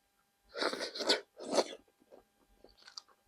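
Close, crunchy chewing and biting on catfish from a Thai sour catfish soup, three loud crunchy bites followed by softer, quieter chewing sounds, with no talking.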